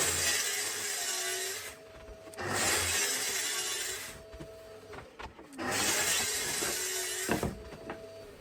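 A saw cutting a sheet of 6mm birch plywood to width in a workshop, with three long rasping cutting passes separated by brief quieter pauses, moderately near and without talk.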